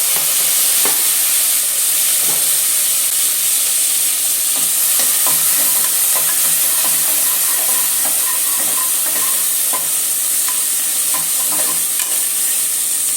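Small tomato frying in a pan for a Mandya-style country chicken curry, with a steady close sizzle throughout and repeated scraping stirs, no voices.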